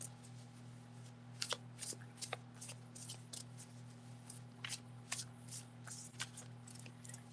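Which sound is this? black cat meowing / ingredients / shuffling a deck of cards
shuffling a deck of cards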